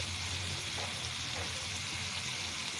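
Bitter gourd with dried fish and pre-fried shrimp sizzles steadily in hot oil, a soft, even frying hiss with no talk over it.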